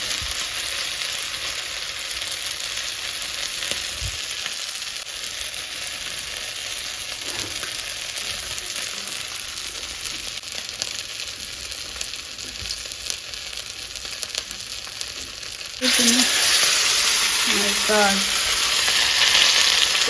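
Bangude (mackerel) coated in masala fries in plenty of hot oil on a tawa, giving a continuous close sizzle that swells into a louder, brighter crackle near the end.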